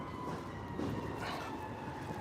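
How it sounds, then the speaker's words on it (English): A train rolls past in downtown Chicago near the waterfront, a steady, continuous rumble with faint rail noise throughout, fairly close and filling the whole stretch with no talk over it. "Here's a train. Here it is right here."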